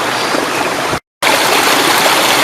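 A creek carrying muddy, sediment-laden water from an eroding bank near Lac Mégantic rushes in a loud, continuous broadband wash, close by. It is broken by a short silent gap about a second in.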